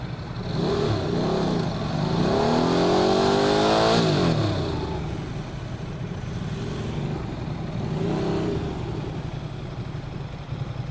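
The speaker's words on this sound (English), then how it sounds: "Do a burnout!" A Ducati motorcycle, a 2016 XDiavel S or 2009 Hypermotard 1100 S, revs hard during a burnout, its engine climbing in pitch, dropping, then rising again in repeated loud surges nearby.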